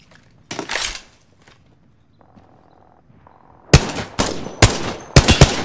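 Gunfire in Apex Legends: a short burst near the start, a quiet stretch with faint beeping tones, then several loud, close bursts of rapid shots in quick succession.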